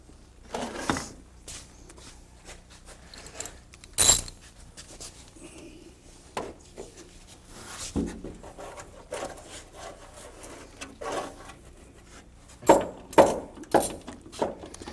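Bolts being worked loose from underneath a car's rear fender during disassembly, heard as scattered scraping and rubbing with a few sharp metallic knocks and clinks, fairly close, with no talk.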